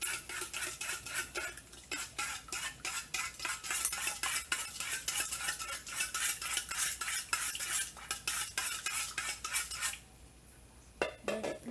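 A utensil stirs and scrapes through a beef tapa mixture in a pan or bowl, with rapid repeated clinks and scrapes at close range and a faint sizzle underneath, then it goes quiet near the end.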